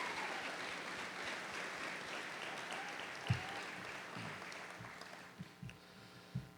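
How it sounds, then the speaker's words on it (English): Crowd at a Vergennes Union High School graduation gives the graduates a round of applause, fairly distant and soft clapping that thins out near the end, with a few louder thumps and knocks close by. "And I think they deserve another round of applause."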